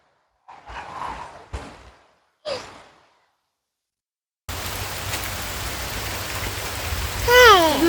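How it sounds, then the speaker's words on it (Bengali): Heavy rain pours steadily in a village setting, a dense even hiss that begins abruptly after a few soft breathy sighs, with a brief higher-pitched chirp near the end. "এখন জোরে বৃষ্টি পড়তেছে।"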